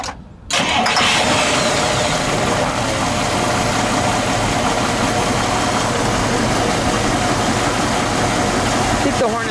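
A 1956 Packard 400 hardtop engine cranks and catches after a brief pause, then settles into a loud, steady idle that runs close up to the end.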